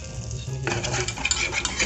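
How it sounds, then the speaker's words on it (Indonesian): A utensil stirs flour into a banana pot pie mixture in a pan, a steady scraping with light clinks against the metal and a soft sizzle underneath, close and without talk. "sini kita campur sampai tepungnya tercampur semua"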